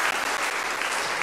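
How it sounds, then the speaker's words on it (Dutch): Brief, dense applause from an audience at a political debate teach-in, loud and continuous throughout the short moment. "Ik wou hartelijk applaus ook nogmaals"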